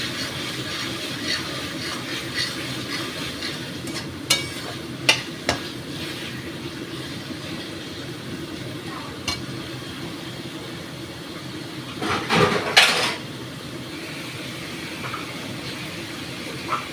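Mutton liver chorchori is stirred in a pan, giving a low steady sizzle with scattered spatula scrapes and knocks, plus a louder burst of clattering near the end; no one talks.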